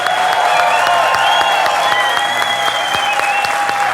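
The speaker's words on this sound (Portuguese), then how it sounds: "Uma salva de palmas." Dense, steady applause from a large audience at a comedy show, loud and close, with a sustained tonal hum running beneath the clapping.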